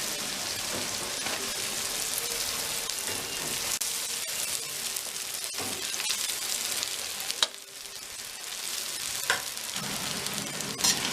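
Rice tipped into a pan of sizzling vegetables for veg pulao, a steady soft frying hiss with scattered light crackles and a few stirring clicks, no talking.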